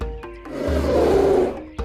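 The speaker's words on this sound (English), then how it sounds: "or a bear growls," A bear's low, rumbling growl swells and holds for about a second, loud and close, with a brief sharp onset near the end.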